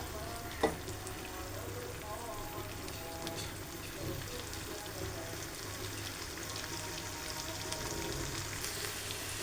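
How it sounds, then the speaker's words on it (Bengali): Chopped onion frying in oil in a pan for chicken roast, a steady soft sizzle throughout with a single sharp clink early on, fairly quiet and even. "পেঁয়াজ কুচিটা সুন্দরভাবে একটু ভালো করে একটু ভেজে নিব।"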